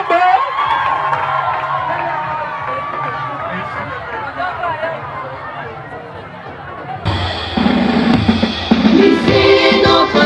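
Students at a lycée student-committee investiture ceremony cheer and whoop as a loud crowd, with a dense babble of shouts and chatter that swells louder in the final few seconds.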